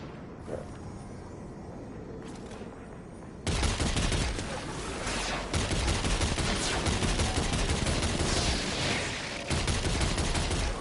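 Weapon gunfire in the Destiny 2 video game: after a quieter opening, a loud, dense burst of repeated shots runs on steadily with brief pauses, close and alone without talk.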